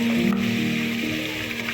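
Ground paste of tomato, green chilli, yogurt and browned onion sizzles steadily in a hot pot while cooking a korma, a continuous close fry with a low hum underneath.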